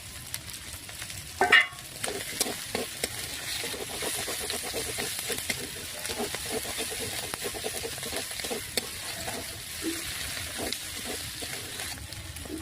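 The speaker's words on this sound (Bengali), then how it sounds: "এলা মাংসটা অল্প মানে ভাজি নিবে আর কি" Meat fries in a pan for a Bengali mangsho curry, a continuous sizzle broken by repeated scraping stirs and a louder clatter early on, with no talk.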